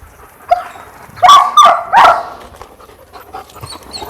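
A German Shepherd pants with a few sharp barks and yips, close by and loud, with quieter panting breaths in between.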